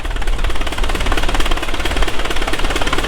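A large 1911 Fairbanks Morse 1525 engine of over 1,500 cubic inches runs at a show, giving a loud, close, steady rapid chugging with a rough mechanical clatter and no voices.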